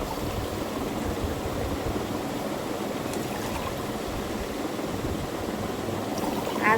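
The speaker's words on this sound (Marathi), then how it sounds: "माठ भरायचा आहे अजून पाण्याने, स्वच्छ धुवून भरते आता" Water pours steadily into a clay pot (matka) being filled after washing, a continuous splashing trickle heard close by at even strength.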